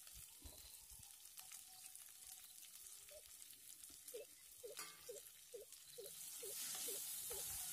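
Boti (tripe) frying in hot oil gives a steady close sizzle, with a run of soft, evenly spaced knocks or stirring sounds over the last few seconds as the frying gets louder.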